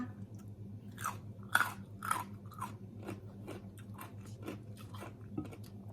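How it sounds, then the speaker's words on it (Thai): Close, crisp chewing of crunchy green papaya salad with salmon, several loud bites and crunches early, then softer rhythmic mastication, quiet overall. "มะละกอกรอบมาก"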